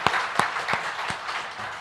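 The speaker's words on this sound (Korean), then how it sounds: "우리 하나님 앞에 영광의 박수 한번 돌립시다." A church congregation applauds, giving a round of clapping in worship: a few sharp, distinct claps up front settle into softer, scattered applause that fills the room.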